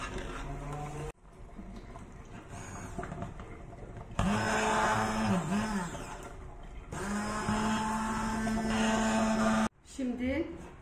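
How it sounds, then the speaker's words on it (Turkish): Blender pureeing broccoli soup in a home kitchen, its motor whirring in loud bursts that stop and restart, pitch shifting as the load changes, with brief pauses between runs. "En sonunda da mikserle çekeceğim."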